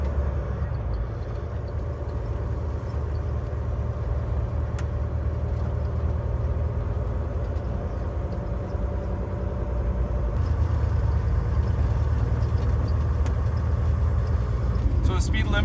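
Steady low engine drone from a Volvo VNR semi truck with an automatic I-Shift transmission, heard from inside the cab while driving, with a slight rise in level partway through as the gearbox works.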